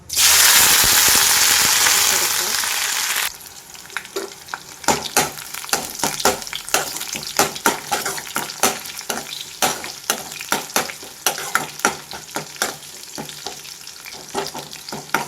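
Crushed garlic and green chilies hit hot oil in a pan with a loud, dense sizzle that drops after a few seconds, followed by a string of sharp clicking stirs and crackles against the pan.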